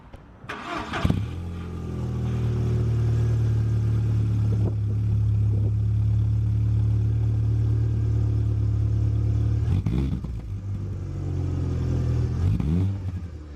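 A 2.0 Volkswagen Golf with a straight-piped exhaust cranks and fires, then settles into a loud, deep, droning idle with a couple of brief revs near the end.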